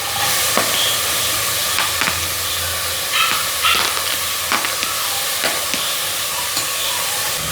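Onions sautéing in a hot pan as a loud, constant sizzle with intermittent spatula scrapes and stirring knocks, heard close up and without speech.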